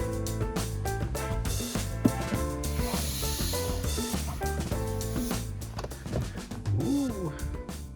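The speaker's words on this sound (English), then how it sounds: "my belt sander has this bobbin feature, so you can put these cylindrical sanding discs on it" A continuous abrasive rubbing and grinding of a cylindrical sanding drum on a belt sander against a wooden worktop corner, steady and close, with a motor hum underneath and occasional voice.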